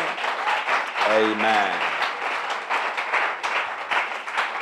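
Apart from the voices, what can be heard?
audience clapping hands at church camp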